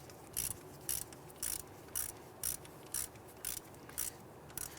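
Regular ratcheting clicks from tightening the ABS sensor bolt on the rear wheel knuckle of a 2011-2019 Ford Explorer, about nine short bursts in a steady rhythm, close and fairly quiet over low shop background.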